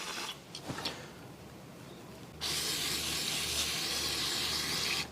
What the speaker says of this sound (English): Just squirt it in the holes, clean it out.